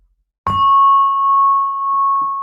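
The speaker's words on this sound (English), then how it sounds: "as the gong fades, let your eyes gently close" A meditation gong is struck once with a bright attack, then rings on as a clear sustained tone that slowly fades, with a few faint soft sounds late in the ring.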